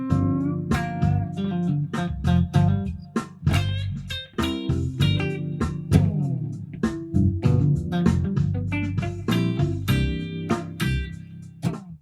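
Blues guitar phrase running a minor pentatonic line over three bars, then a dominant seventh arpeggio on the fourth, plucked notes in quick succession over a backing, played alone without talk.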